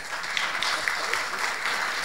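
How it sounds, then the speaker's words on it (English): A conference audience in a hotel hall claps steadily, a dense, even wash of applause with a few sharper individual claps, moderately loud throughout. "Don't get tired of clapping."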